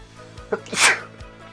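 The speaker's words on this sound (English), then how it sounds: "Excuse me, I sneezed." A single short, sharp human sneeze bursts out close to the microphone, alone with no talking around it.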